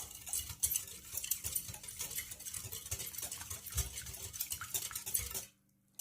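A spoon stirs brown sugar into warm water in a bowl, scraping and clinking continuously up close before stopping abruptly into silence at the end.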